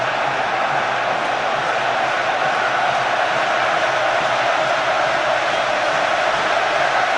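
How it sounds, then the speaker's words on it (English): A dense football crowd roars at Wembley Stadium during a Euro 2008 qualifier between England and Croatia, a loud, sustained, unbroken wall of noise from thousands of fans. "thunderous now, the noise from the crowd at Wembley as Beckham prepares to take this free kick."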